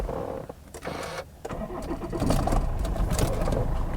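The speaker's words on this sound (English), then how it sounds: "Doesn't even sound nice, this diesel engine either." A Lexus IS diesel engine cranks and catches, then settles into a rough, rattly idle, loud and close.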